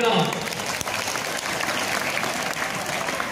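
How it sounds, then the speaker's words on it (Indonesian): Students at a school orientation clap together in a dense, steady burst of applause that fills the space, with some voices mixed in. "Tepuk tangan dulu dong"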